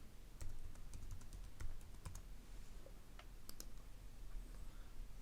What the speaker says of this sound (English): let's type in the